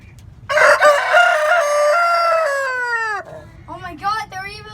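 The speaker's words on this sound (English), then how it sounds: "Crowing roosters and other funny sounds." Roosters crow up close, one long loud cock-a-doodle-doo that slides down at the end, followed by shorter broken crows and clucks, with people talking nearby.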